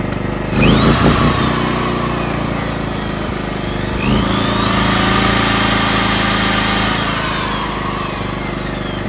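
A portable generator engine in eco mode drones steadily and loudly, its pitch rising and falling as it labors under a changing load from a power drill, with a brief buzzing whine near the start.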